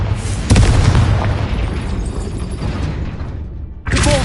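A loud Confringo blasting spell in Hogwarts Legacy erupts as a heavy boom, its roaring rumble sustained for several seconds before cutting off, then another blast starts.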